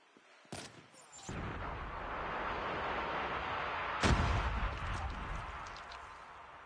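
Frag grenade going off in a Call of Duty ranked match on the Cordite map: a sharp crack, then a heavy rumbling blast rolling on for seconds, with a second thump partway through and distant gunfire.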